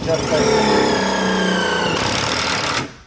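An impact driver sinks self-tapping screws while fitting window safety screens to a Ford Transit van, giving a loud rattling, droning whir for about three seconds that stops abruptly near the end.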